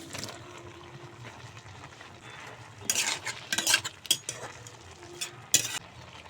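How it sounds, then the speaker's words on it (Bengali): Chopped tomatoes tipped onto boiled potatoes in a pan, giving a few sharp clattering stirs and scrapes over a faint low sizzle, the louder bursts clustered midway and near the end. "এখন দিয়ে দিচ্ছি কেটে রাখা টমেটো"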